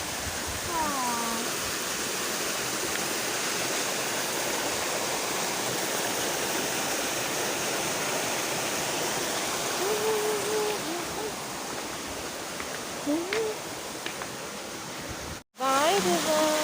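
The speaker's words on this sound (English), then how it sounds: "at the peaceful river" A peaceful river stream flows with a steady, loud rushing wash near a resort, continuous throughout, while voices and brief chirps come and go over it before a short cut near the end.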